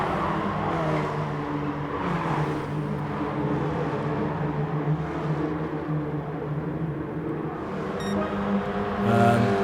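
A pack of KTM X-Bow race cars in a racing game drones along in close racing, several engines overlapping in a continuous rumbling whine with small shifts in pitch.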